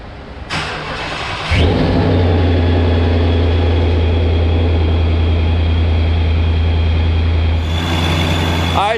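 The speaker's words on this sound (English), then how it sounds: "we just got our first fire up in the car. Car's warming up." A supercharged 2019 Ford Mustang GT with a ProCharger P1X fires up for the first time: the starter cranks briefly, then the engine catches into a loud, steady, rumbling idle with a faint supercharger whine, close by.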